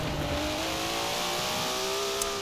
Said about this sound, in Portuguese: Reduzir a marcha, estou acelerando o carro.